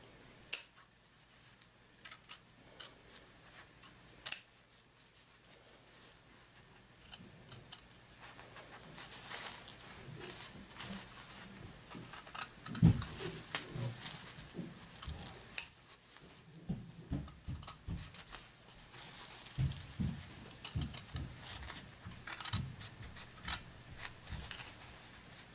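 Scissors snipping around the outline of machine-embroidered fabric for a barrette, close and fairly soft, with irregular clusters of short blade cuts and rustling, growing busier toward the middle and end.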